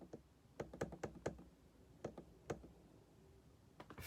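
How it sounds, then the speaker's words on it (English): Fingers tap on a phone or keyboard to enter an Instagram hashtag, a dozen or so sharp, quiet clicks in uneven bursts with short pauses between, close by and with no voice over them. "let me see if I can type that over here in Instagram world"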